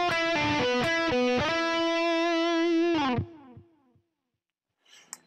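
Electric guitar plays a blues phrase from a solo, with effects-coloured tone: a run of quick picked notes, then a long sustained bend that rings out, followed by a few fading notes and a brief faint noise.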